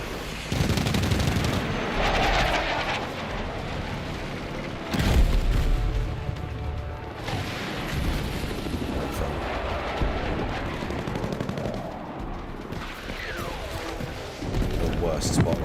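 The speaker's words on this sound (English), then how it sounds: "the tanks and all sorts shooting at me" Tank cannon fire and gunfire in a video game battle, loud and close: heavy booms and sustained rapid shooting with rumbling explosions throughout, a voice talking at times underneath.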